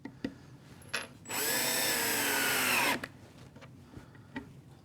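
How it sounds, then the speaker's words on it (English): A power drill whirs steadily for about two seconds as it drives a screw into wood while assembling a router table, with scattered quieter clicks and knocks from handling before and after. "I'm going to start in the center and then work my way out, driving the screws in place."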